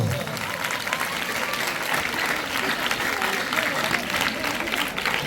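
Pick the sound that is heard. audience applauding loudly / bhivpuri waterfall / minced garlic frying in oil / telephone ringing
audience applauding loudly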